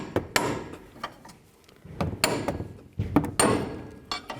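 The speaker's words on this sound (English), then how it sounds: "We're just going to use the pickle fork." Pickle fork driven with a hammer to split a ball joint on a 2007-2014 GMC Sierra 3500HD truck during upper control arm replacement; several sharp metallic strikes land in uneven bursts, close and loud, with no talking.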